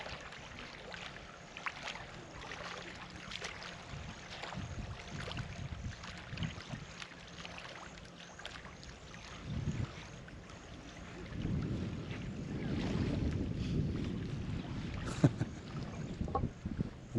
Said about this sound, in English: So woken up to a slightly windier day today, as you can probably hear in the background.